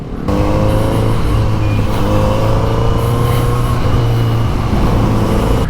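A Kawasaki Z900RS motorcycle riding home at night, its engine humming steadily and close with a constant droning tone and road noise, no talking.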